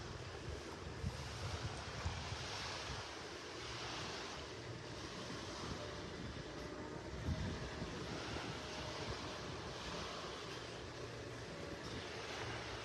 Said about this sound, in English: You can see the waves cresting over the sandbar out there, breaking over the sandbar.